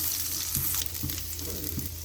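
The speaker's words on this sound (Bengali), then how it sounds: "1 টেবিল চামচ রসুন কুচি দিচ্ছি। 1 মিনিটের মতো ভেজে নেব।" Chopped garlic sizzling in butter in a pan for pasta, a close steady hiss of frying broken by a few soft stirring knocks, with no talk.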